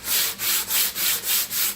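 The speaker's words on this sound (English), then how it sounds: "get the old sanding block and" Sanding block rubbed back and forth over a crud-covered old engine part from a 1939 Ford 9N tractor, six steady rasping strokes in an even rhythm, close and fairly loud with no talk.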